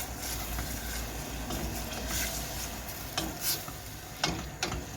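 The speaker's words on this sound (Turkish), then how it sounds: "Kıymamı güzelce kavurayım bir önce." Minced meat browning in a small pot gives a loud, continuous frying hiss, broken by a few sharp scraping clicks of stirring near the end.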